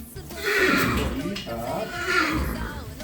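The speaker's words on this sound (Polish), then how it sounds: "Konik zaczyna jeść" A horse with stomach ulcers whinnies loudly and close by in its stable as chaff is handed out at feeding time, with two rising calls and a voice in the background.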